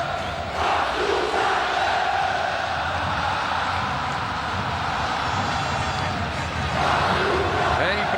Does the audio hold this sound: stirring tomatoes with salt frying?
no